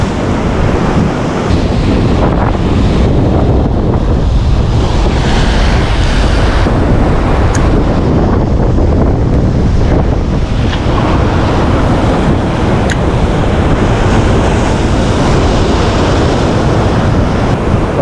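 Rough sea water churns and surges while strong wind buffets the microphone on a bass fishing outing, a loud continuous roar that never lets up.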